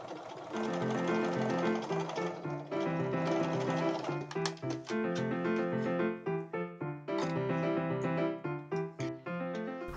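Sewing machine running steadily while stitching bodice shoulder seams just outside the piping line, a loud mechanical whir with rapid rhythmic needle clatter, briefly pausing and then restarting in short, stuttering bursts toward the end.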